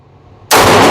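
A single loud, close Taurus G2C/G3C pistol shot rings out abruptly at a shooting target after a quiet moment, and its sharp report carries through to the end.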